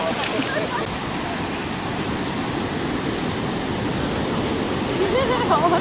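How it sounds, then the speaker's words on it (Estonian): Large waves breaking on an Indian Ocean beach in Australia, a steady loud broadband roar of surf throughout with a slight swell near the end. "näed, kus suur laine tuleb"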